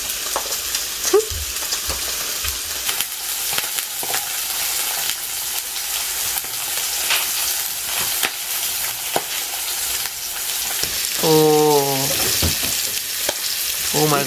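Bacon frying on a Korean grill crackles loud and continuous, with sharp spatters and scraping taps throughout.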